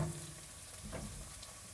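Onion and garlic frying in a pan, a steady close hiss that fills the whole short moment, with no talking.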